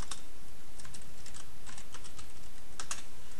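Keys on a computer keyboard clack in short bursts of typing separated by brief pauses, close and fairly quiet, with no voices.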